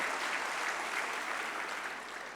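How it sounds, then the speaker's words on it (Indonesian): Crowd applause at a political gathering, a dense, even wash of many hands clapping, fairly distant and steady throughout, fading slightly toward the end. "tepuk tangan dong buat 1 putaran, sekali"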